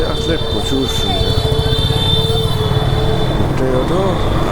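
A metro train runs at Dakshineswar metro station in Kolkata, giving a loud, continuous rumble with high metallic wheel squeal and occasional tonal whines, while voices sit faintly in the background.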